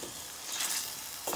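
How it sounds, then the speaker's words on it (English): Potatoes sizzle in a hot pan for a potato and channa curry while being stirred, a steady soft frying hiss with faint scraping, no talk. "And then we're gonna go in with that potatoes. We're gonna mix all this up."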